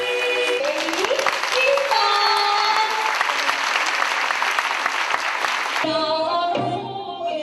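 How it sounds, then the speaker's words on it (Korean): A concert audience breaks into loud, sustained applause after the Japanese folk song Soran Bushi is sung, steady clapping that carries on for several seconds before a sudden drop to a thinner, quieter tail. "아리랑이 불려지고 일본 민요 소란부시를 부르자 터져나오는 관객들의 박수갈채"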